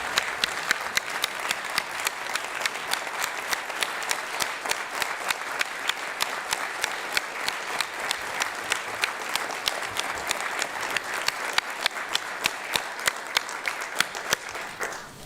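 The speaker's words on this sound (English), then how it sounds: "I'm sure that we could applaud for a lot longer" Sustained applause from an audience honoring a retiring police chief at a public meeting, dense clapping from many hands held steady for about fifteen seconds with no talk over it.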